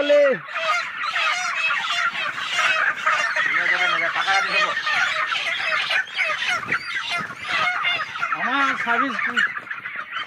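A dense crowd of broiler chickens on a poultry farm clucks and squawks continuously, close and loud, with overlapping calls and occasional sharper honking cries throughout, and no speech.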